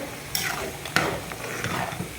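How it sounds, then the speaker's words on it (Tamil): Coconut oil crackles and sizzles in a pan with a few sharp pops as mustard seeds and curry leaves splutter in tempering, close and moderately loud, no talking. "கடுகும் பெருங்காயம் கொஞ்சம், அதுக்கப்புறம் கருவேப்பிலை இதுதான் வந்து தாளிக்கணும்."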